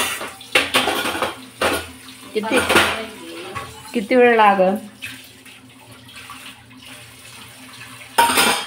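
Dishes and pots being washed under running water, with clinking cutlery, splashing tap water and scrubbing clatter in bursts, close by, while people talk over it at times.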